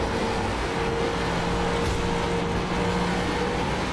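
A NASCAR race car engine at Atlanta Motor Speedway in the iRacing simulator drones steadily at constant volume, a continuous buzzing hum with no talk over it.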